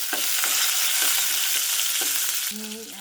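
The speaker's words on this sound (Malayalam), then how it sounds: "ചെറിയ ഉള്ളി വേപ്പിലയിട്ട് കൊടുക്കുക" Oil sizzles steadily as shallots and curry leaves fry in a pan, with occasional light stirring taps and a brief scrape near the end.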